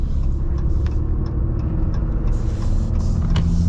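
A 2023 Ram 2500 Laramie crew cab truck driving and turning, a low steady engine and road rumble heard from the cabin, with faint clicks and taps over the top.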